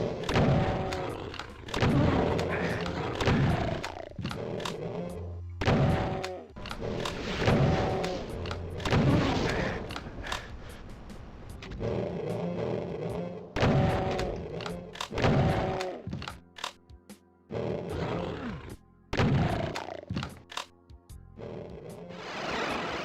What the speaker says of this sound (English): I'll fire a couple of rockets.